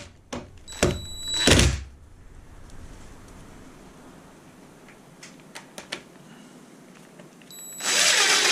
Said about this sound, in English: So I'm taking these 3 drywall screws and I'm screwing them in the back here.